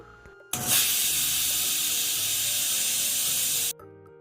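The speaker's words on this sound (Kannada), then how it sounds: "ಇದು 2 ವಿಷಲ್ ಬರಬೇಕು, ಅಲ್ಲಿವರೆಗೂ ಇದನ್ನು ಕೂಗಿಸ್ಕೊಳ್ತೀನಿ." A pressure cooker of beetroot lets out one loud, close, sustained hissing whistle of steam lasting about three seconds, starting and stopping sharply against quiet kitchen background.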